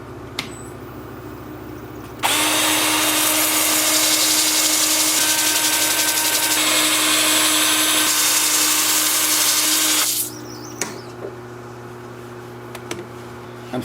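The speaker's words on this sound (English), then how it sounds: "I'm starting at 80 grit. I'll work up through 400 grit." Sandpaper works a spalted maple bowl spinning on a wood lathe, a loud, steady whirring hiss that starts abruptly, holds for about eight seconds, then stops, leaving a faint motor hum and light clicks.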